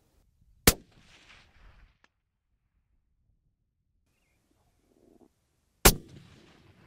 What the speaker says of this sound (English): I actually missed my first shot and I could see it hit the soil just in the back here